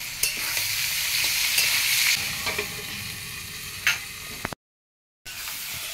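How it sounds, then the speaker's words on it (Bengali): Sliced potato and onion fry in a pan, a continuous close sizzle with occasional clinks and scrapes of a spoon as they are stirred, then a brief cut to silence before the frying resumes. "এর উপর এবার পেঁয়াজটা দিয়ে দেবো। পেঁয়াজটা দিয়ে আবার একটু ভেজে নেবো।"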